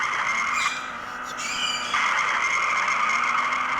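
A car being driven, its engine and road noise a loud, steady close-up roar with tire skidding swelling in partway through; no talk.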